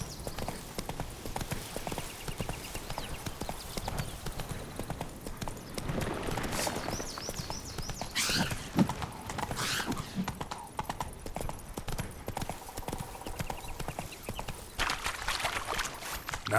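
Horse hooves clip-clopping in a steady galloping rhythm in The Witcher 3 video game, with occasional whinnies, game ambience and music throughout, close and continuous.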